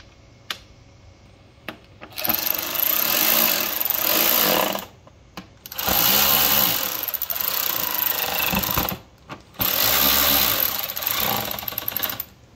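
A power driver running Phillips screws into a cold air intake cover on a Ford diesel, with three loud sustained whirring bursts separated by short pauses and a few faint clicks.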